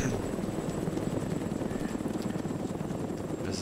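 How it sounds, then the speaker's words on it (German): Helicopter in the ArmA 2 DayZ mod video game flying away, a steady broadband rotor and engine rumble at moderate level that holds evenly throughout with no talk over it. "Jetzt fliegt hier ein Heli weg."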